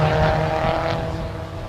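Race cars in a 2012 time attack session at New Jersey Motorsports Park, driving down the front straight as a continuous loud engine roar that holds steady, then eases off slightly.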